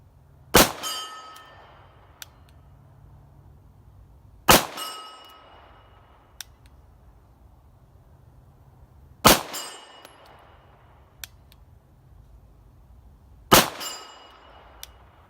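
Four Walther PPQ pistol shots spaced several seconds apart at an outdoor range, each sharp crack followed a moment later by a faint metallic ding of the bullet striking a steel plate 50 yards away.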